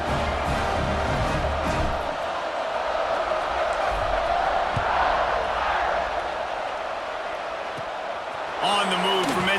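Stadium crowd roaring in the College Football 26 video game at a Boston College versus Notre Dame matchup, a dense sustained cheer that swells and fades, with commentators talking over it.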